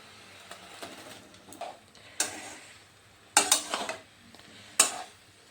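Vegetables for Bengali shukto tumbling into a cooking pot, a few sharp clattering bursts of metal and pieces striking the vessel between quiet stretches, close and fairly crisp.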